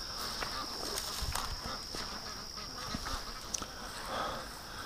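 A group of ducks gives faint, scattered quacks and calls outdoors early in the day, distant and low under steady background noise.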